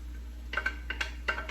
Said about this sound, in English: return the turkey to the skillet